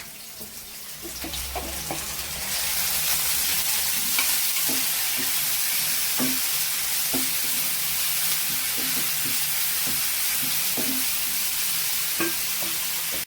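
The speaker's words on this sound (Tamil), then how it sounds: "சின்ன வெங்காயம், இஞ்சி, பூண்டு, பச்சை மிளகாய் இதையும் போட்டு நல்லா வதக்கலாம்ப்பா." Shallots, ginger, garlic and green chillies sizzle in a hot pan while being stirred, a steady frying hiss with occasional scraping knocks of a spoon against the pan.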